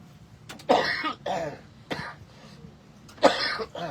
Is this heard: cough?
yes